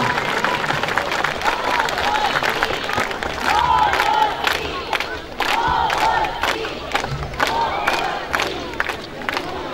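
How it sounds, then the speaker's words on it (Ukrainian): An audience at a Children's Day celebration claps and cheers for the dancers, a crowd roar with whoops and shouts over sustained applause, and a voice briefly heard amid the noise. "Подякуйте їм своїми аплодисментами, своїми оплесками."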